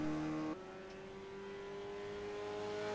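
A Mazda MX-5 spec race car on fresh Yokohama tires laps Mid-Ohio in the iRacing sim, its engine a steady, loud, close droning whine that dips sharply once early on, as if shifting gear, then holds and slowly climbs.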